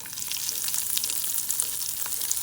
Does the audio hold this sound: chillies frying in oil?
yes